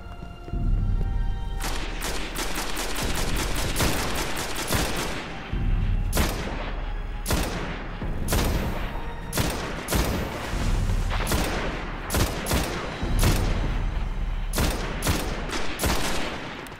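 Rapid bursts of gunfire from the shooter video game Destiny, loud and near, with dense repeated shots and heavy low booms throughout, fired steadily with brief gaps between volleys.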